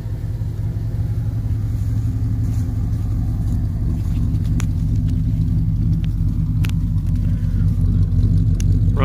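The engine of a 1978 Mercury Grand Marquis two-door coupe runs, giving a steady, loud, low rumble that holds even throughout, with a few faint clicks over it.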